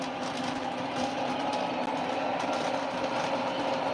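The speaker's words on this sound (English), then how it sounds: "the diesel sound for this diesel here is just fantastic." A steady mechanical diesel drone from an O scale model diesel locomotive's sound system, with a faint rhythmic chug, continuous and fairly quiet, with no voices.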